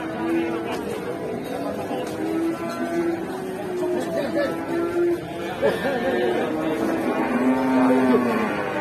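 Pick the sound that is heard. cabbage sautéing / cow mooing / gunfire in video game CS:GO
cow mooing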